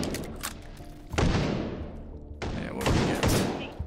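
Pump-style shotgun in the VR shooter H3VR, loaded one shell at a time and firing buckshot: two loud, booming blasts about a second apart, each with a long decaying tail, followed by a burst of further shots.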